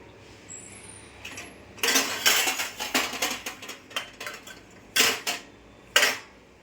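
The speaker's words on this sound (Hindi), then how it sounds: "मैं बर्तन ले लेती हूँ कोई जिसमें मैं घी छानना है।" Steel pots and utensils clatter and clang close by while ghee is strained through a steel sieve, a burst of repeated metallic knocks and scrapes followed by a few separate loud clanks, with no talk.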